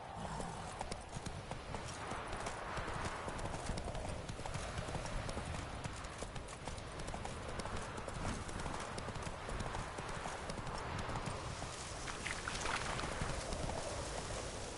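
Roach, a horse in The Witcher 3, trots with steady clip-clopping hooves heard continuously at close range over a busy game soundscape of wind and ambient noise, with a faint occasional whinny.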